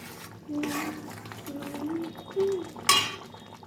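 A spoon stirs mustard-sauced parshe fish in a pan, giving soft clinks and scrapes of metal with a faint bubbling, under a nearby voice.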